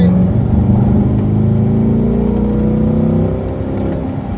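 A C8 Corvette engine drones loud and close through a corner, its pitch gliding steadily as the revs change, then easing to a lower, quieter hum near the end.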